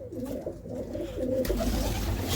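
Pigeons coo in soft, repeated rolling phrases close by, a pair with their young, steady and unaccompanied by talk.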